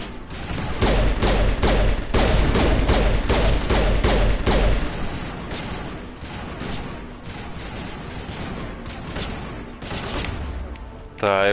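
Rapid, loud gunfire from the video game Mass Effect rattles in dense bursts with a fast steady rhythm, easing into a rougher, quieter barrage of shots before a final sharp blast.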